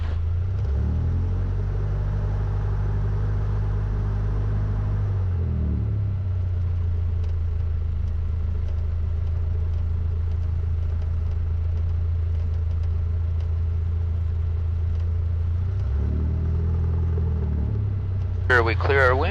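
A training aircraft's engine runs up for takeoff, a loud, steady droning rumble with a strong low hum that shifts pitch twice. A brief sharp higher burst comes near the end.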